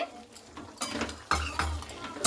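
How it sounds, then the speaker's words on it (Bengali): A spoon scrapes and clanks in a pot as yogurt is stirred into mutton curry, a few irregular metallic knocks and swishes, close and fairly quiet. "এরপরে টক দইটা দিয়ে খুব ভালো করে কিন্তু এভাবে নাড়াচাড়া করে নিচ্ছি।"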